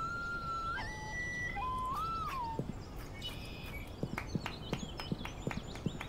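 Hooves clip-clop in an even rhythm in the video game Black Mirror 2, preceded by bright synthetic chimes and tones like game sound effects.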